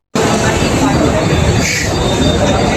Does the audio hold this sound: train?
yes